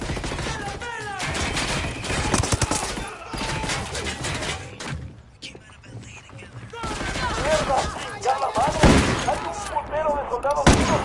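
Gunfire in the tactical shooter Ghost Recon Wildlands, with sustained bursts and rapid shots layered over one another. Voices shout and talk over the dense shooting throughout.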